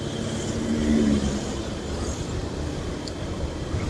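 A car drives and overtakes on the Malangbong–Limbangan road around Lingkar Gentong, heard from inside as a steady engine and road rumble that swells briefly during the pass.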